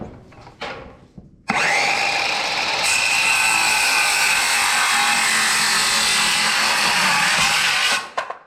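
A power saw cuts wooden planks to fit a flatbed utility trailer, with a few brief handling knocks followed by a loud, sustained whining cut that runs steadily for about six seconds before stopping.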